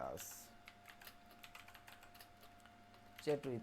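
Computer keyboard typing while entering text into a WordPress site's WhatsApp chat settings, a light run of quiet key taps close by, under a steady faint hum and a brief voice near the end.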